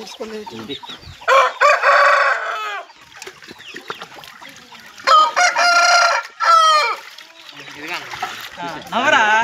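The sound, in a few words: fighting roosters crowing and clucking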